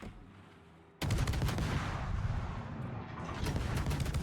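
Naval gunfire from the Kitakaze destroyer in World of Warships, with fast repeated loud shots that begin abruptly after a quiet second and keep up a rapid, rattling rhythm with no speech.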